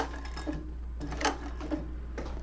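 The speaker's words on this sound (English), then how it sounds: "I had to hand crank through that thickness. I have not had to do that on my industrial before" An industrial sewing machine is slowly hand-cranked through thick fabric, making faint irregular clicks and knocks over a constant low motor hum, close up.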